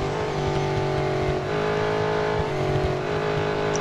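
A race car engine in the Real Racing 3 mobile game, running flat out at Le Mans in an After Dark Cup event, holds a loud, steady, high-revving drone close up, with no talking.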